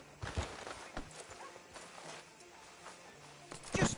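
Horse hooves clip-clop at an easy walk in the Western video game Red Dead Redemption 2, a few soft irregular steps over quiet background, with a sharper burst of sound at the end.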